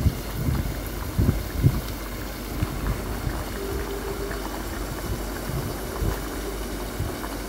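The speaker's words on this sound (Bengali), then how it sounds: "এখানে কচুমুখি দিয়ে ইলিশ মাছ দিয়ে রান্না করা হচ্ছে" Hilsa fish curry with taro bubbles in a pot, a steady low simmering rumble with soft gurgles that runs on its own throughout.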